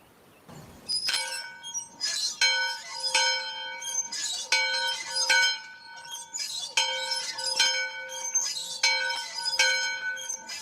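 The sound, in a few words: bell being rung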